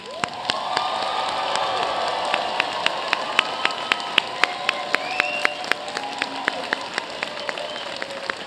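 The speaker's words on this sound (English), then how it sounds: "Let us join in a round of applause to congratulate our graduates." Applause for graduates at a graduate commencement ceremony for a college of arts and sciences and a school of business, a large hall crowd clapping steadily with scattered cheers and a few sharp close claps standing out.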